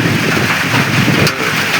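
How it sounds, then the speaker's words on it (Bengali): Heavy rain driven by strong wind over an open jute field, a dense steady roar of wind buffeting the microphone and rain, loud and continuous throughout with a brief dip near the end. "জোরে বৃষ্টি শুরু হয়েছে, কি জোরে বৃষ্টি হচ্ছে দেখতে পাচ্ছেন, বাতাস এবং বৃষ্টি।"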